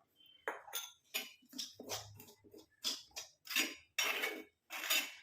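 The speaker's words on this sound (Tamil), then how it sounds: "இப்போ நம்ம எடுத்து வச்சுருக்க டிகாஷனை கொஞ்சம் கொஞ்சமாக ஊற்றி மிக்ஸ் பண்ணிக்கலாம்" A spoon scrapes and clinks rhythmically against a bowl while henna and avarai powder paste is mixed with a poured decoction, a series of short, close, crisp strokes with brief pauses between them.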